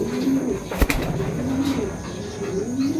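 Pigeons coo softly in repeated low calls, with a brief flutter of wings partway through against a steady outdoor hiss.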